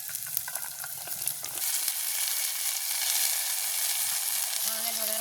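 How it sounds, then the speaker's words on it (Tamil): Onions, green chillies, fennel and broad beans sauté together in a pan, a continuous close sizzle that swells louder midway, with stirring scrapes and brief clatter near the start. "இப்போ வெங்காயம், மிளகாய், பெருஞ்சீரகம் வச்சதெல்லாம் நல்லா வதங்கிட்டு நாங்கள் அதோட அவரைக்காயும் சேர்த்துக்கொள்வோம்."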